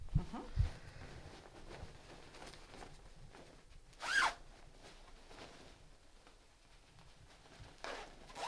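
Zipper on a protective coverall suit worn for entering a farm: a short, brisk zip rasp near the middle, another quieter one near the end, and faint rustling of fabric between them.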